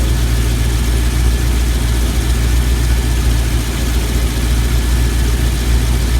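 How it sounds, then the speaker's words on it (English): An LS V8 engine idles cold with injectors ticking over rocker arm noise, a steady loud low rumble that holds unbroken throughout with no talk. "to me I can hear the injectors more than I can hear the rocker arms, but like I said, it's not warmed up yet"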